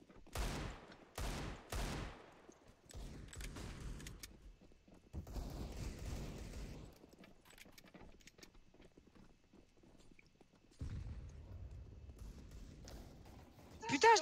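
Burst-mode gunfire in Counter-Strike 2, three sharp close shots in quick succession at the start, followed by scattered softer game effects and footsteps, with a voice talking over later parts.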